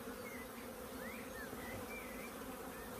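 A dense, steady hum of many honeybees, including nurse bees, buzzing close by, continuous and even, with faint higher whines drifting through.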